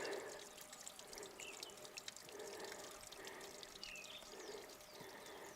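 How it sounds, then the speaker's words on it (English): A small brook trickles and burbles steadily beside a walking path. The water sounds faint and continuous, with soft splashes and no voices. "Listen to that little brook."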